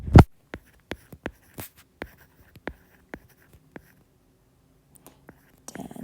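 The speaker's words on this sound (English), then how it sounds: "I can't speak and write at the same time" Handwriting with a pen: a scatter of sharp, separate scratches and taps at an irregular pace, close and clear in a quiet room, with a soft breath at the start and end.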